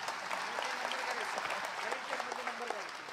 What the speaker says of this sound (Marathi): टाळ्या वाजवा या मुलीसाठी